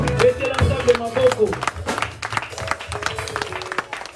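Church congregation at a Sunday worship service applauding, a burst of scattered clapping mixed with voices and singing, loud and close, fading into lighter claps.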